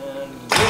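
A Nissan race engine in a Tame Prototipo car catches on its first start, a sudden loud burst of combustion roar cutting in after a low steady whine, close and brief.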